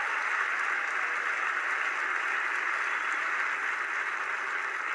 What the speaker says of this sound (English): Mark, let's give Mark a nice round of applause.